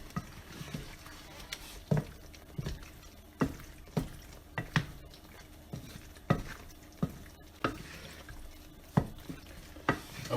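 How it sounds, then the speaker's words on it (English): Penne pasta being stirred through vodka sauce in a pan, with a steady series of soft wet scrapes and clicks from the spoon repeating every second or so, gentle sizzling underneath. "Go ahead and mix that around in there. Let the pasta get a good coating of the sauce on it."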